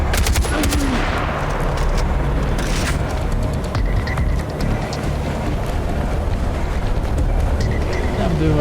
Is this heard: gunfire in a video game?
yes